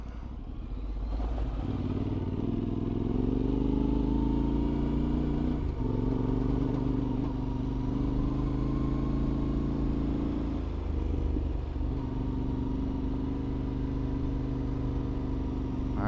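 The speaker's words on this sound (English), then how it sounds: "Gotta love how the T7 will pull through in third like it's nothing though." A Yamaha T7 motorcycle pulls steadily uphill in third gear, its engine holding a loud, continuous mid-range drone with slight pitch shifts as the load changes, heard close from the rider's position and without speech.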